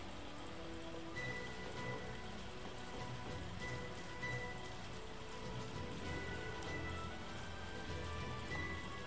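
Steady rain falls in Final Fantasy XIII-2, a dense, even patter on surfaces that continues without a break, with faint game tones drifting over it and no voices.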